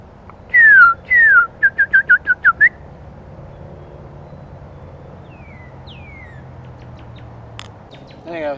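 A bird gives two slurred whistles followed by a quick series of short whistled notes, then a few fainter calls later over quiet background noise.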